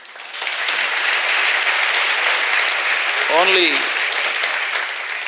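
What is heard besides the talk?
audience applause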